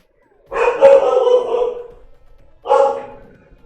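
A dog gives two loud barks close by: a long, rough first bark, then a short pause and a briefer second one.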